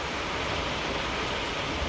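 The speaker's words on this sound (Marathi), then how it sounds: "पाऊस चालू आहे" Steady rain falling outdoors beside a road, a continuous close hiss of drops with no breaks or voices over the short stretch.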